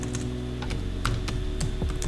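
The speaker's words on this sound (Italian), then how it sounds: "Ora, su questo riquadro dobbiamo digitare il testo." Text being typed on a computer keyboard, a quick irregular series of close, crisp key clicks over a faint steady hum, with no voices.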